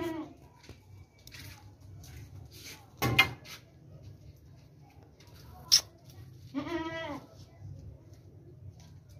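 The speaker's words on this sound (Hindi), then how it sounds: "ये सोने वाली बकरी है, बहुत ही ज़बरदस्त बकरी है।" A pregnant goat gives a single clear bleat late on. Before it come a few sharp knocks and scuffs against a low background hum, and people talk nearby.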